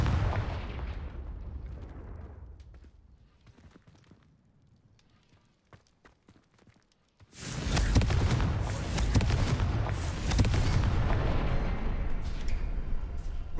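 In Hogwarts Legacy, the Confringo spell erupts into a loud fiery explosion after a quiet lull of faint clicks, followed by sustained booming blasts and crackling debris.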